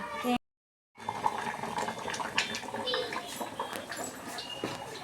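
Steady bubbling and gurgling of water at a simmer in a cooking pot after a brief silent gap, with faint clinks and a low background hum.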